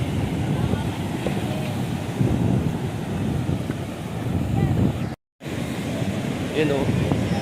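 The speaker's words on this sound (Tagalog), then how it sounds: "Laki ng alon." Big ocean waves roll and wash along Sabang Beach in Baler, a continuous broadband roar mixed with wind buffeting the microphone. The sound stays steady and loud throughout, with a brief dropout near the end.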